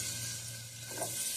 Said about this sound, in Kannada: ಕಾದಿರುವ ಎಣ್ಣೆ